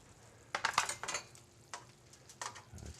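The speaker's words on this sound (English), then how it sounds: "I'm just going to grab my tenderloin out of the oven" A pan holding a tenderloin is lifted out of an oven and handled, giving a few sharp metallic clanks and scrapes with light clatter between them, fairly close, with no one talking.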